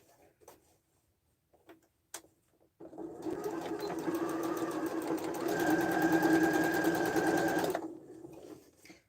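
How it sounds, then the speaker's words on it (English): After a few light clicks, a sewing machine runs continuously for about five seconds, stitching a half-inch seam on a tote bag. The needle whirs with a rapid, steady rhythm, close and loud, then stops abruptly. "And then we sew 1/2 inch."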